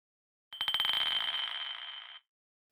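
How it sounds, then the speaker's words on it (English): A bright, shimmering ring with a rapid flutter at the start, a recording of struck ceramic played forwards through effects, sustaining briefly before stopping abruptly. "I used the ceramic recording both forwards and backwards together like this, just with some effects"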